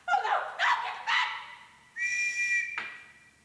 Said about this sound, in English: He comes around the only thing that scares him is this whistle.